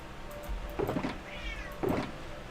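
A house cat meows insistently, wanting to be let out: a couple of short, close cries and one longer rising-and-falling meow, over faint background noise and no talk.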